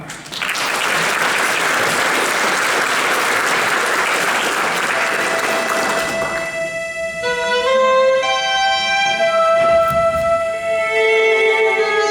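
A concert audience breaks into loud, sustained applause that fills the hall for about six seconds, then fades as piano notes ring out and continue alone.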